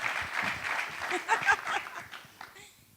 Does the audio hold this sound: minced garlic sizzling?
no